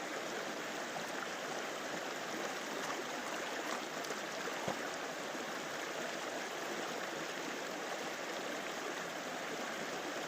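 Steady rushing of Rockbottom Creek, a continuous broadband wash of flowing water close by with no voices.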